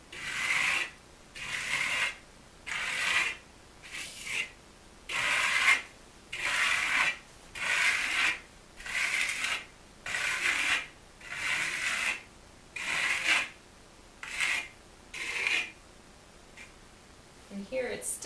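Trowel spreading AquaStone coating in light arcing strokes, a rhythmic series of scraping swishes, about a dozen evenly paced passes, close and fairly quiet.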